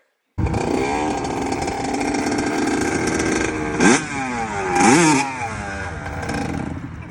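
A dirt bike engine screams at high revs with a buzzy, raspy tone, holding steady before two sharp throttle blips rise and fall as it lifts into a wheelie, loud and close.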